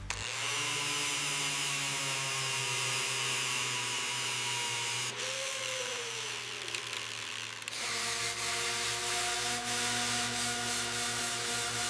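Loud, continuous abrasive sanding grinds against the rusty metal body of a Rolls-Royce, its tone shifting partway through as the pressure or tool changes; no talking.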